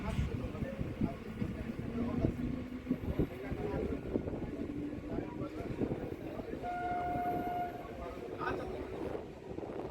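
A Bangaon-Ranaghat local train pulls out of Akaipur station, heard from on board as a continuous rumbling rattle with a short horn-like tone partway through, while someone speaks over the noise.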